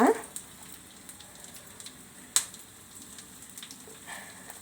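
Curry leaves and coriander seeds sizzle in a pan for a coriander chutney, a soft steady crackle with scattered pops and one sharp clack partway through, no talking.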